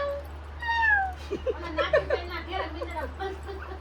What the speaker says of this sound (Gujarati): મિયાઓ અવાજ આવે છે